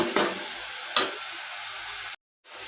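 Chopped onions and leafy greens fry in a pan, making a loud, continuous close sizzle that is broken by two quick stirring scrapes, then briefly cuts out near the end before returning.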